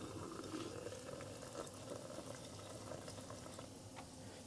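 Cool tap water runs and splashes over an Autofiber Scrub Ninja MAX pad during rinsing, a faint, continuous bubbling rush with no break.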